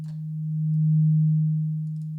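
Synth sub bass holding one steady low note that swells slowly louder and then fades quieter, a smooth pulsing tone alone with no other sounds.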